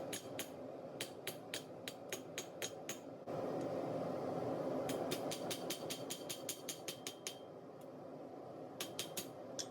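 Hand hammer blows forging a Damascus steel knife blade, hammering in the bevels: sharp ringing metallic strikes in rapid bursts, loud and close, over a steady rumbling background drone with no talk.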